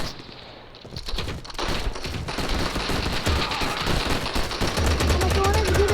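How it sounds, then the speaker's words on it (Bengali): Rapid automatic gunfire in a shooting video game crackles in dense, continuous bursts, growing louder after the first second and staying close and intense to the end. "আমাকে অনেক জোরে গুলি করা হচ্ছে।"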